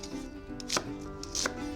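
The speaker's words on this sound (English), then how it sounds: "I'm gonna chop half of a white onion" Half a white onion being chopped with a knife, two distinct close knife strikes on a board about three-quarters of a second apart over quiet background.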